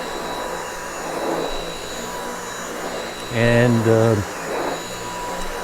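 Dyson V8 Absolute cordless vacuum cleaner running as it is pushed over a floor, a steady motor whine rising in pitch and loudness for about a second midway, with a voice speaking briefly.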